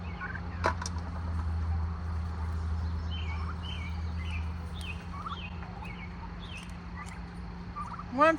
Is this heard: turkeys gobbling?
yes